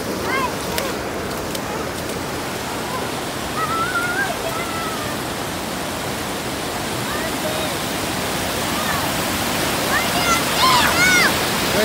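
Water rushes steadily over a waterfall in a continuous broadband roar, with faint bird chirps and a few distant voices speaking over it.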